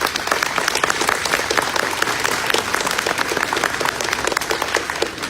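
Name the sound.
applause for employees at ribbon cutting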